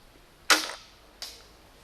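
A modded crossbow fires a ball with a sharp, loud snap, and a second fainter snap follows less than a second later.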